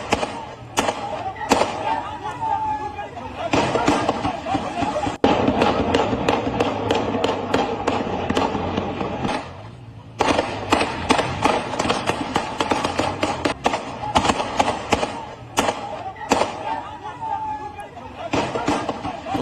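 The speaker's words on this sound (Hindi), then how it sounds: "गोलियों की आवाज आप सुन रहे थे।" Sharp, rapid cracks of gunfire ring out in repeated bursts during a violent street protest in Pakistan-occupied Kashmir, over a noisy, shouting crowd, with a brief lull midway.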